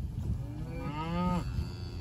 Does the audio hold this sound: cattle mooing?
yes